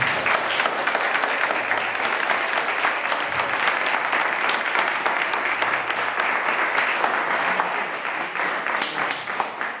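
Audience applause at a cooking workshop in a municipal street market, steady clapping from a gathered crowd that holds for the whole stretch at a lively, fairly close level.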